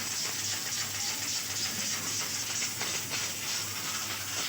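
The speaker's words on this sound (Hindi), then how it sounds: "अब हम कर रहे हैं समोसे फ्राई" Samosas frying in a pan of hot oil, a steady broadband sizzle and hiss that holds at an even, moderately loud level throughout with no talking.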